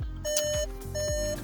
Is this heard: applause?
no